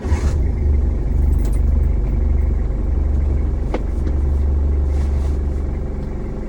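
A car engine starts and settles into a steady, loud low rumble after sound deadener insulation has been fitted to the cabin, the drone holding constant with no talk.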